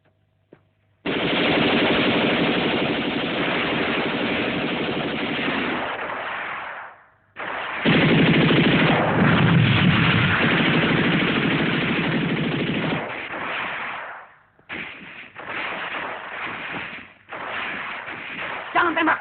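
Machine-gun fire from a film rattles in long sustained bursts, loud and dense, with brief gaps between volleys and no talk over it.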